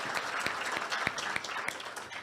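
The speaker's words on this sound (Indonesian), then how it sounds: "Kita beri tepuk tangan Pak Budi Ari." Steady applause from a seated audience at an Indonesian ministry ceremony for the Minister of Communication and Digital, a dense patter of many hands with a few sharper claps standing out, continuous and moderately loud throughout.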